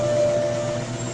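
Train brakes on a ride at the San Diego Wild Animal Park, a steady mechanical hum with a thin high squeal fading in and out, fairly close.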